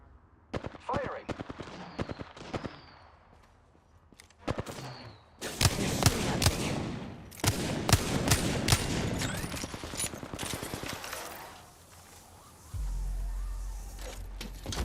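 Gunfire in a video game: rapid bursts of automatic shots, first scattered and then dense, sustained volleys, with brief pauses between bursts and a low rumble near the end.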